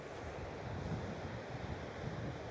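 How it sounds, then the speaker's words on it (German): Moderate surf breaking on a shore, suitable for surfing though not dangerous, with a steady broadband wash and wind rumble continuing throughout without distinct individual wave crashes. "Ist jetzt nicht die ultimative Brandung, also nicht die gefährliche Brandung"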